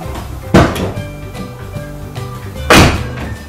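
A Nissan Fairlady Z33 car door shuts twice with solid thunks, about two seconds apart, close by in a quiet setting.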